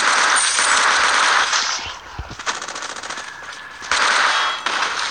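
Automatic weapon fire in the zombie shooter mobile game Unkilled, sustained loud rattling bursts that break off briefly near the middle, then resume at full intensity.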